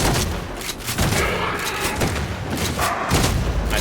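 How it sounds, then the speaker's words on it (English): Shotgun blasts in a video game, a dense run of heavy booming thumps packed close together, loud and near, with no gaps of quiet between them. "I missed one of those shotgun shots did absolutely nothing to him"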